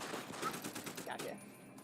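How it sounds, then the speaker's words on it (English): Enemy gunfire in Deus Ex: Human Revolution, a dense rattle of distant shots under game audio, with a player's voice talking over it. "He's shooting at me from way over there"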